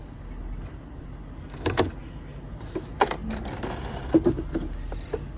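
A sewing machine stitching fabric in a few short, close mechanical bursts with clicks and whirs between quiet pauses, no talking.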